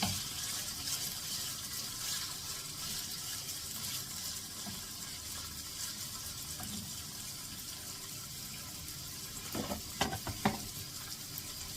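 Marinated pork belly stir-frying in a pan makes a steady, fairly quiet sizzle. Near the end a few sharp utensil clanks stand out against it, and nobody speaks.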